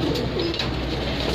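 At a pigeon show, a bird gives a brief low coo amid a dense, noisy background.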